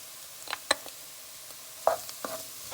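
Ginger and garlic sauté in a pan for curry lentil soup, a quiet sizzle broken by several scattered scrapes and clacks of a stirring utensil.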